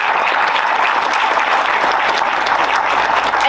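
A conference audience at an annual HR conclave claps loudly and steadily throughout, a dense close wash of applause with no break.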